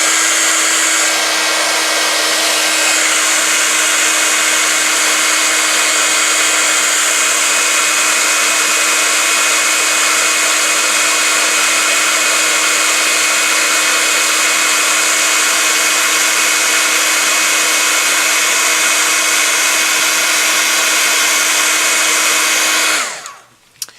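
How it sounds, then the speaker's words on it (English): A heat tool blows hot air to set Smoky Slate embossing powder on a handmade wedding card, a loud, steady whirring drone that runs unbroken for about twenty-three seconds before cutting off abruptly. "Now I'm going to heat set the Smoky Slate."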